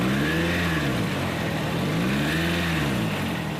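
A car engine on the Toyota Australia factory line, running loud and close with two rising-and-falling revs, steady throughout with no voices.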